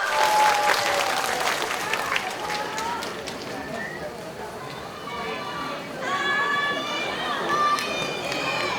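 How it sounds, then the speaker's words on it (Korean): Applause and cheering from a festival crowd at an outdoor concert during the Hamyang wild ginseng festival, steady and fairly loud throughout, with voices and whistles mixed in. "뜨거운 박수 부탁드리겠습니다"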